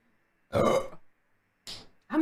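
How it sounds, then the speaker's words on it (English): A loud, drawn-out human burp rings out near the microphone, followed by two shorter belches, with quiet gaps between them. "Wow, that was a big burp."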